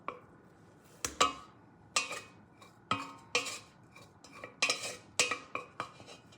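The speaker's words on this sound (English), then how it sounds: "we're going to scrape it into our mixing bowl" Cream puff dough scraped from a pan into a mixing bowl, a series of sharp, close scraping and clattering hits at an uneven rhythm with quiet gaps between them.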